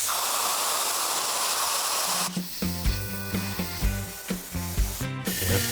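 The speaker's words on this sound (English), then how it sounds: "So he's gonna end up gas welding right through" A gas welding torch hisses steadily on a car body panel, then gives way to a series of rhythmic metallic hammer-and-dolly taps on the panel.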